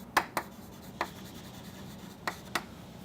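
Chalk strikes a board during an engineering lecture, five crisp, quiet taps and short strokes spread unevenly over a low room hum, with no talking.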